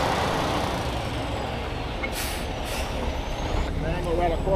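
A tow truck wrecker turns around and stages itself, its engine rumbling steadily at close range with two short hissing bursts of air brakes, amid outdoor background noise.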